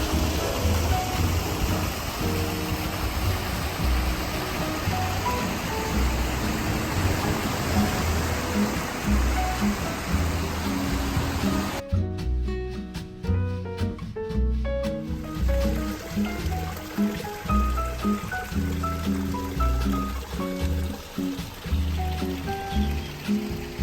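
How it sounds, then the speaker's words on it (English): A natural waterfall pours into a pool along a trail on São Miguel in the Azores, a continuous dense rushing splash heard close and loud with no voices. "It was a beautiful natural waterfall into a pool that looked to be man-made."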